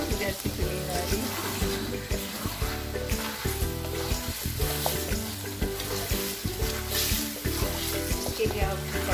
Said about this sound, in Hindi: मसाला कुछ भूनते हुए ही सॉफ्ट हो गया।